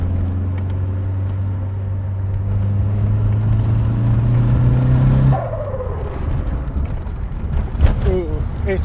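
A car with a freshly forged, rebuilt engine driving: a steady low drone with a clear engine hum that suddenly drops and changes character about midway, followed by rougher, uneven rumbling and a few knocks.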